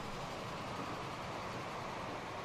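Steam train running in the Transport Fever game during a steam-power haulage race, a steady broadband rolling rumble and rail noise that holds constant and fairly loud throughout, with no voices.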